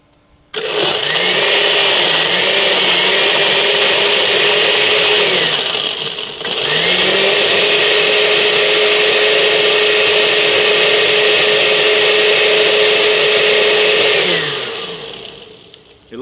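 An electric blender crushes about three cups of ice for a Guavaberry Colada from St. Maarten. The loud motor whines in two long bursts with a brief pause between them, then spins down at the end.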